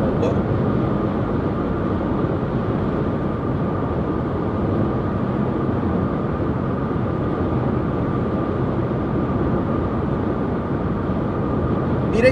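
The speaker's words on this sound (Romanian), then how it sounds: "Și vedeți și frâna de motor." Dacia Logan, 2020 generation, engine braking on the road: steady low engine drone with road and wind rumble inside the cabin, constant and unbroken throughout.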